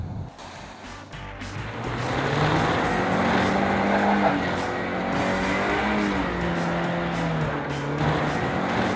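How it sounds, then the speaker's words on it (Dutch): Five-cylinder engine of a Volvo C70 convertible driving through a snowy landscape, a steady, loud drone with a rising and falling pitch throughout, some faint talk underneath. "Fijne 5-cilinder in de neus, hiermee kun je heel ontspannen naar de wintersport."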